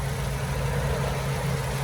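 A 2016 Toyota Corolla Altis sedan with a 1.6G Dual VVT-i engine idles. It makes a steady, smooth low hum that stays close and even, with no other sounds over it.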